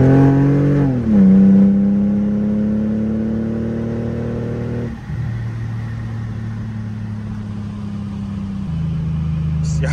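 Manual-shift sports sedan pulling hard from a cruise, engine note climbing through the gears with distinct dips at each shift, heard loud and close from the driver's seat.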